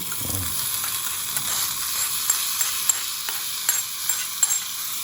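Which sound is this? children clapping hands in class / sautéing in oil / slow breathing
sautéing in oil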